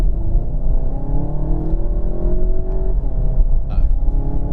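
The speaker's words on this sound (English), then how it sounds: "let's see if it can stay with the Mercedes over this road" A Volkswagen Golf GTI and a Mercedes A45 AMG accelerate hard along a road, heard as a loud, steady engine rumble with rising drone from inside the car and no speech.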